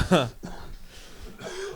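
A single throaty cough or throat-clearing, close up, followed by a brief breathy exhale and some muffled noise.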